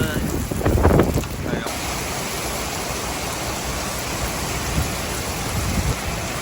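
Strong wind roars steadily across the microphone at an outdoor training camp in Korea, a dense, unbroken rush with a louder gust near the start and no voices.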